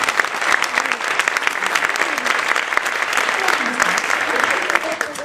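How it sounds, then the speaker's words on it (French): Loud, sustained applause from a conference audience for the event volunteers, a dense even clatter of many hands filling the room from start to finish. "vous pouvez tous les applaudir très fort"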